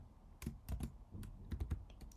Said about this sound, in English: So let me just type my object ID